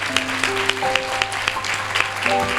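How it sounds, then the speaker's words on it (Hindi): A church congregation at a youth camp sermon claps in a steady rhythm, moderately loud sharp claps repeating about every quarter second over sustained keyboard notes. "तो जोर से ताली बजाकर प्रभु को धन्यवाद दें।"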